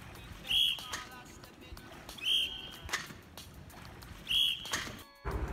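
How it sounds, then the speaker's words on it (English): Three sharp, high whistle blasts at spaced intervals, with light clatter and thuds between them in a quiet setting. "The neutral stimulus is the whistle being blown."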